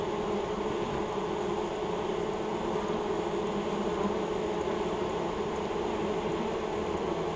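Honey bees at the entrance of a hive from a newly captured swarm, a continuous soft buzzing hum that stays even and fairly quiet throughout.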